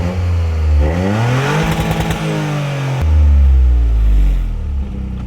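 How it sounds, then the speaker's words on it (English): A stock-exhaust Toyota GR Corolla revs up and drops back twice, the engine note climbing steeply in pitch and then falling away, loud and close with a deep low-RPM rumble and no talking. "I figure I should show you how it sounds stock before we throw the exhaust on"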